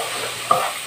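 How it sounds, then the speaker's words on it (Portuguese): Onion, bell pepper and garlic fry in a pan, a steady soft sizzle with a brief stirring scrape partway through, close and alone. "A gente frita bem, até se manchar."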